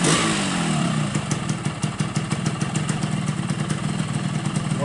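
A 2007 Yamaha RX King motorcycle engine with aftermarket muffler idles steadily nearby with a rapid, even putter and slight mechanical clatter, no talking.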